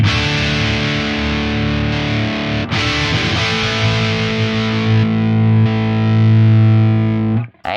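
Electric guitar played on the neck pickup with a boost, run through an Axe Fx III model of a Fryette Deliverance 60 amp, rings out loud heavily distorted chords that sustain and change a few times before cutting off at the end.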